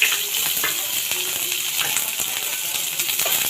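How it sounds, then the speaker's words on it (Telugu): Onions and green chilies fry in hot oil in a pan for a crispy chicken curry, producing a loud, dense, continuous hiss with faint scattered crackles, close up and without speech. "కొంచెం నూనె మరిగింది అని అనుకున్న తర్వాత ఫస్ట్ ఉల్లిపాయలు వేసుకొని తర్వాత పచ్చిమిర్చి వేసుకొని"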